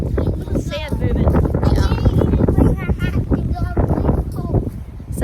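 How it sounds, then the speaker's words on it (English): Strong wind blowing outdoors buffets the microphone with low rumbling gusts, loud and continuous beneath people talking close by. "It is extremely windy out here, so we're freezing."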